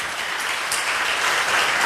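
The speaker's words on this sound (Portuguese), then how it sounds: "Aplauda mais forte se você está aplaudindo a Jesus." A church congregation applauds during a sermon, with loud, steady clapping that fills the space from start to finish.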